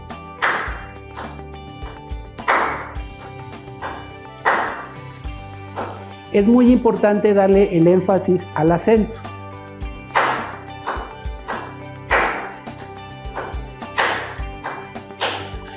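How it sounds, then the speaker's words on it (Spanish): A teacher claps out the syllables of the word México in a short burst of quick hand claps, close and loud, between stretches of Spanish talk about a child learning the word. "En esta ocasión lo vamos a repetir con palmadas."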